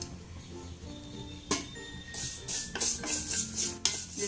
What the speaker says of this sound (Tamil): இந்த சேமியா வந்து லைட்டாக வறுத்துடலாம்.